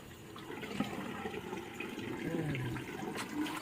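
Tap water running through a faucet-mounted water filter, a soft steady gush and splash heard up close throughout, with no talking.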